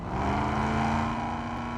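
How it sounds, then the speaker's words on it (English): A Mustang Fastback's big engine roars through its exhaust in the driving game Drive Beyond Horizons, a steady loud droning rumble that holds without pause. "That thing sounds crazy with that exhaust. It sounds awful pissed off"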